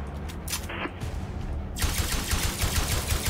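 Rapid automatic gunfire from a powerful weapon in Osiris: New Dawn, first a few scattered shots, then a dense, sustained rattling burst that grows louder toward the end.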